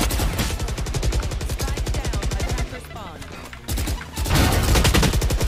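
Gunfire in the video game Valorant, dense rapid automatic shots rattling steadily, loud and close, with a short pause mid-way before the firing resumes heavier.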